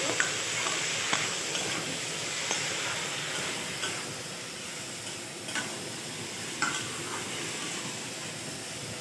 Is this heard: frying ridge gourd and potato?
yes